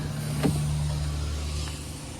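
Car power window motor whirring briefly, a short electric hum with a click at the start and another near the end, quiet and close inside the cabin.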